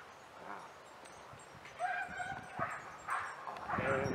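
Dogs yip and bark in short bursts, a few barks close together, some whimpering among them, moderately loud against background noise.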